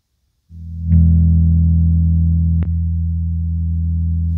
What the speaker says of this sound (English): let's hear how it sounds, because once you start playing it, you'll find probably that you'll play it all day too